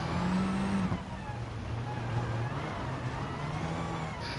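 A rally car in the Gran Turismo Sport video game drones with a steady engine tone that dips in pitch as it brakes, then holds a lower note through a handbrake slide, loud and continuous.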